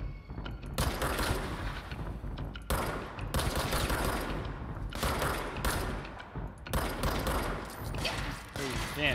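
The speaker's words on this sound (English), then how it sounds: "Ooh, damn, he's shooting me." Enemy gunfire in the video game Control, dense loud bursts of rapid automatic shots with short gaps between volleys, continuing throughout.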